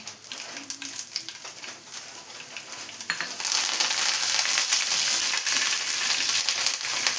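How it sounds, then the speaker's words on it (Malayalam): Mustard seeds, two broken dried red chillies and curry leaves fry in coconut oil in a pan, starting with light crackles and pops, then rising into a loud, steady close-up sizzle, with no talk. "ഇപ്പോൾ എല്ലാം ഒന്ന് ഫ്രൈ ആയി വരുന്നുണ്ട്."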